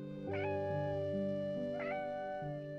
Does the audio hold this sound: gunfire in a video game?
no